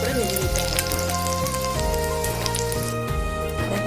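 Snacks frying in hot oil, a loud, continuous close sizzle and crackle that runs unbroken with no talk.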